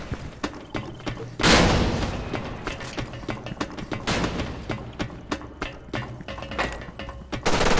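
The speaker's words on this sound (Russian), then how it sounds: "Миха, взрывай давай" Explosions and gunfire in the online shooter Special Force 2: a loud blast rolls out early, another heavy boom lands midway, and sharp shots crackle in rapid bursts between them.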